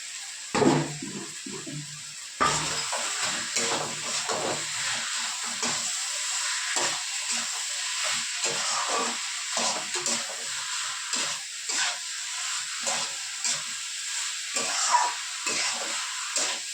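Masala frying in oil in a pan while preparing Kashmiri aloo dum, a steady close sizzle with frequent stirring scrapes and crackles throughout, no voices.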